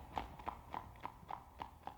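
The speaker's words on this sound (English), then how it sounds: "We're just galloping away?" Hoof clip-clops of a horse within a song, seven or eight evenly spaced hollow knocks in a steady trotting rhythm, moderately quiet and dry.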